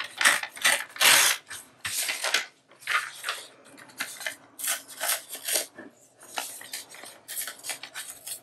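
Paper being torn by hand for a ring binder journal, a run of crisp ripping bursts with short pauses between them, close and fairly loud, with no talking.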